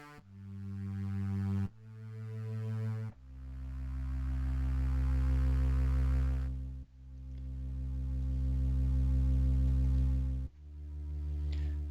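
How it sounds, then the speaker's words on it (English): Deep string bass notes from a Cherry Audio Quadra synthesizer swell and sustain one at a time, each slowly rising in volume before the next low note cuts in. "So the string bass sounds like this."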